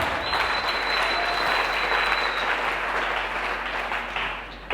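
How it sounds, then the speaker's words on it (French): A church congregation at a community seminar bursts into sustained, dense applause, loud and even for several seconds before tapering slightly at the end. "Acclame encore le Seigneur très très fort"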